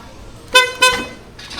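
A car horn is tested with two short honks in quick succession, loud and close, followed by a quiet idle background.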